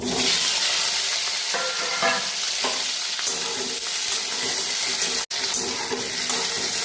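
Ripe jujube (kul) chutney is stirred in a hot pan, a steady close sizzle overlaid with repeated scraping stir strokes and a brief break partway through.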